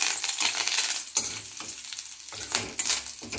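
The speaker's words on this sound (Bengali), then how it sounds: "এবার কারি পাতাটা ভেজে নেব।" Curry leaves frying in hot oil in a pan, a bright close sizzle that rises and falls in bursts with a few soft stirring scrapes and clinks, no voices.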